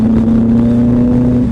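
A Kawasaki Ninja ZX-14 with a derestricted Voodoo exhaust sounds loud and close, a steady, powerful droning engine note held without a break.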